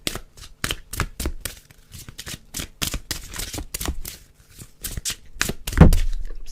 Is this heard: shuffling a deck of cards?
yes